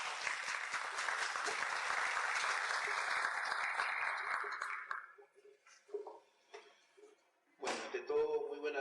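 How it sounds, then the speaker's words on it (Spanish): A seated audience at an evening criminal-law lecture gives a loud, sustained round of applause that tapers off after about five seconds, followed by scattered claps, a brief murmur and a voice starting to speak. "Un fuerte aplauso, por favor."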